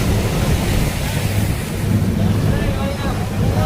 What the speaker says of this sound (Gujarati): પવન તો છે.